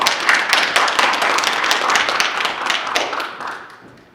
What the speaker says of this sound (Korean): 박수 좀 주십시오.